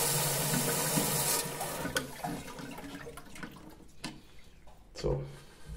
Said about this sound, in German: da kommt das Wasser mit sehr viel Druck